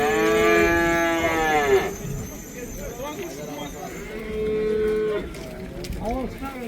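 Cattle at the Karabulak livestock market moo loudly, with one long drawn-out moo up close at the start and another moo midway, over a busy background of people talking.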